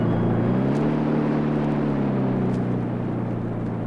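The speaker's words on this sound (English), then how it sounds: "I've reversed the engine so we can ease into our mooring, Mr. Bishop." A boat engine reversing to ease into a mooring, a steady, loud, low droning hum that holds throughout and fades slightly toward the end, with no voices.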